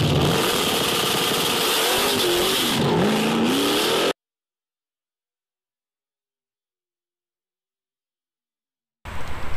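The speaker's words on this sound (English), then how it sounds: "if you've never seen wheel hop, it can be pretty violent" A 4th gen Z28 Camaro revs hard on launch with violent rear wheel hop, its engine note wavering and surging for about four seconds before dropping to silence, then roaring back loudly at the very end.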